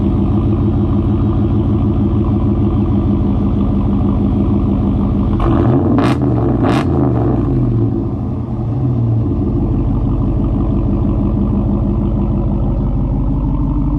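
Deep, loud idle from a 2019 Ram truck running a muffler delete exhaust, broken midway by a couple of quick throttle revs that swell and fall back to the steady rumble.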